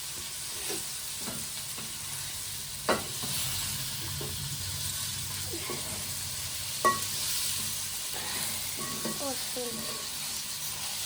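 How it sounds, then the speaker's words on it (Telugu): Deep-fried paneer pieces are stirred in a sizzling pan: a constant frying hiss with scattered knocks and scrapes of the spoon against the pan, close and continuous. "పన్నీర్ ముక్కలను వేసేసాము ఇప్పుడు వేసాక దీన్ని ఒకసారిగా ఇలా కలుపుకోవాలండి"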